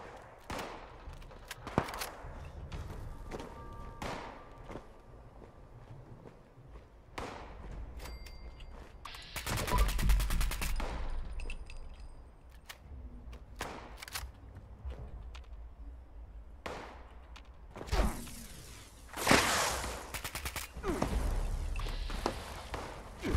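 Gunfire in the video game Fallout 76 sounds as scattered sharp shots and a loud burst of rapid fire, mixed with game effects and footsteps, in fairly near, uneven clusters.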